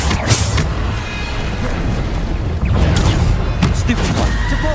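Explosive Bombarda spell blasts boom through a Hogwarts Legacy PS5 battle, a dense, continuous rumble of heavy impacts and crashes with a couple of sharper bursts, and voices under the noise.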